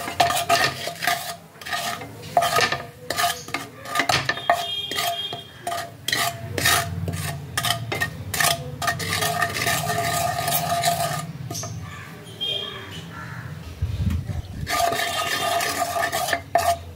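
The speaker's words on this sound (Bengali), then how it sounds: "এই সবগুলোকে তেলের মধ্যে ভালো করে নাড়িয়ে নিতে হবে।" A spoon scrapes and stirs ground black pepper and garam masala powder through hot oil in a pan, a steady run of close scraping strokes over a faint sizzle, with no talking.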